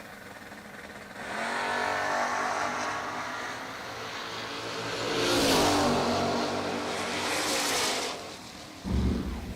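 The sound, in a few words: drag race cars launching and racing down the strip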